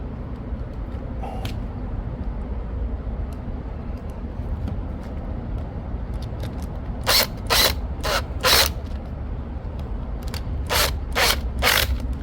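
A metal hook for a homemade plant hanger is tightened with a ratcheting tool, giving a steady low background hum and then several separate bursts of quick ratchet clicks, three in one run and three more a few seconds later.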